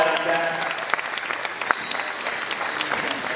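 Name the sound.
applause at a karate belt test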